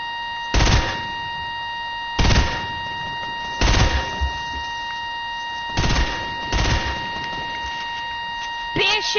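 Shotgun blasts in a multiplayer video game, five or six loud sharp bursts spaced a second or two apart over steady background game hum, with a tonal electronic drone throughout.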